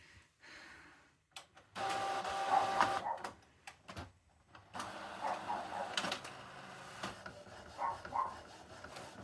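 Epson SureColor F100 sublimation printer running in a home, mechanical whirring and clicking passes starting and stopping, close and moderate, with a dog barking in short bursts between.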